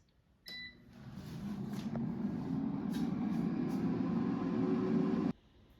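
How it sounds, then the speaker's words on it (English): An air fryer set to 400 degrees Fahrenheit roasting medley tomatoes: a steady, close fan whir starting after a click and holding for about five seconds before cutting off abruptly. "let's put the air fryer basket in the air fryer, and I'm going to set the temperature to 400 degrees Fahrenheit"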